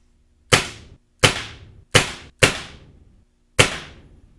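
A Gamo Swarm Maxxim gen 2 air rifle fires .22 caliber pellets: five sharp, loud cracks in an uneven rhythm, each one followed by a short decaying tail, with near silence between shots.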